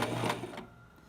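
A sewing machine stitching and backstitching a fabric face mask, a short close mechanical whirring burst that fades within about a second.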